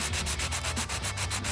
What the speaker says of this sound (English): I'm going to rub the key on this, sanding it back and forth